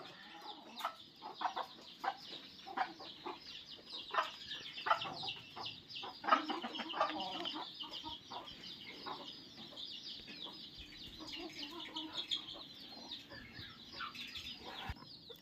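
Free-range desi chickens cluck and call steadily inside a farm shed housing goats and poultry, a busy overlapping flock at moderate distance with repeated short clucks and no talk.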